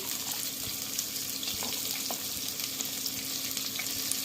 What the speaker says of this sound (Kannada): ಈ ಮೂರನ್ನ ಹಾಕೊಂಡು ಸ್ವಲ್ಪ ಫಸ್ಟ್ ಫ್ರೈ ಮಾಡ್ಕೋಬೇಕು